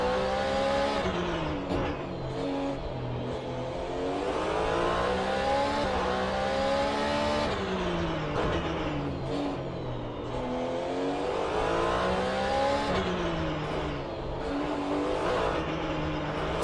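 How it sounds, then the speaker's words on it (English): A Porsche 911 GT3 race car in a sim racing game at Detroit, heard from the cockpit: the engine roars loudly and continuously, its pitch rising and falling through repeated upshifts and braking dips. "Here's the view from Frank Radosti's cockpit in the number 912 Porsche 911 GT3"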